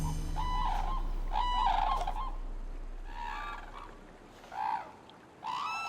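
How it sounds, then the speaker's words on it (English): Cranes calling as they gather in a river at night in Japan: loud, repeated honking, trumpeting cries from several birds, one call after another with short gaps, and no voices. "As night approaches, the cranes gather in a river."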